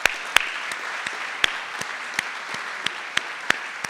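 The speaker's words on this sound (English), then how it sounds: "Let's give him a big round of applause." Audience at an international symposium applauding the keynote, a steady patter of many hands clapping with a few sharper claps standing out, moderately close.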